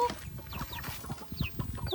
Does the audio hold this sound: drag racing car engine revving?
no